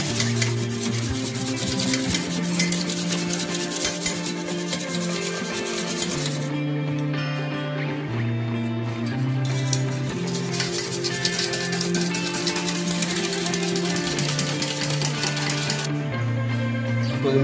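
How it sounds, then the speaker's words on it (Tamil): A whisk beats an egg mixture for sweet egg bread toast, making a continuous scraping, rubbing swish against the bowl that runs steadily under background music. "நான் விஸ்க் யூஸ் பண்ணுறேன். நல்லா மிக்ஸ் பண்ணிக்கணும்."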